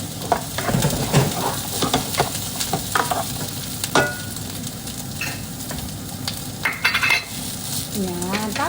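Onion sizzles in a hot pan, with a crackling fry broken up by stirring scrapes and clinks of a utensil against the pan.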